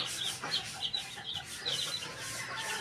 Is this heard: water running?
no